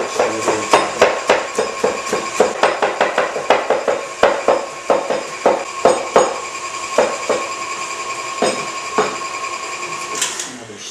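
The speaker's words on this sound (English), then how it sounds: "And I can switch over to chopping." A knife chops chocolate on a cutting board for cookies in rapid, sharp, rhythmic knocks close by. The chops come fast at first, then slow to spaced strikes before stopping.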